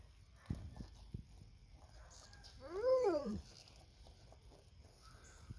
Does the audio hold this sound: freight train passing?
no